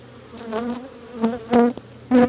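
Upset, defensive honey bees buzz around an opened hive in autumn, loud close passes rising and fading in short bursts as individual bees fly near, with no talk.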